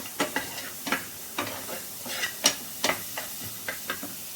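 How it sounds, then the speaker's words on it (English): Tomatoes sizzle in a pan for restaurant-style tomato soup while a utensil stirs them, giving a soft continuous hiss punctuated by about a dozen crisp, regular scraping clicks. "So here I'm adding my tomatoes to the pan"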